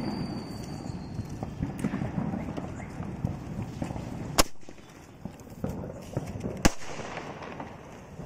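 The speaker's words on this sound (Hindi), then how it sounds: "अब ये स्टार वर्ल्ड वाला ये स्काई शॉट है इसको जला के देखते हैं कैसा चलता है।" A Star World sky shot firecracker is lit outdoors. A rough, crackling fizz builds up, then two sharp, loud bangs come a couple of seconds apart, with quieter popping in between.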